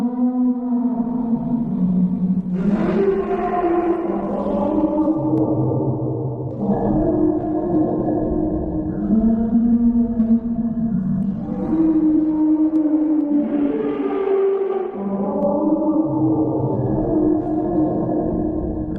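A deep Pacific Ocean underwater sound known as the Bloop, heard as rising and falling tonal swoops and drawn-out moaning wails, continuous and fairly loud, with no talking over it.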